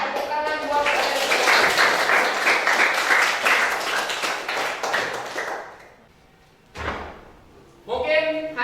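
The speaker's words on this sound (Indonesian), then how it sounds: "Tepuk tangan buat kalian." Classroom students clap together in a loud burst that runs for several seconds and then stops, followed by a brief pause, a thump and renewed voices.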